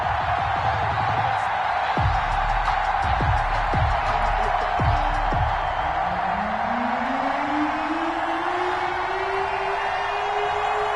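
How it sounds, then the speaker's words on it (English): Steady roar of a stadium crowd at an NFL match between the Las Vegas Raiders and Indianapolis Colts in an EA Sports football game, a constant dense wash of cheering with a few short thumps and a rising whoop-like tone. "This crowd is ready as their guys get set to match up between the Las Vegas Raiders and the Indianapolis Colts."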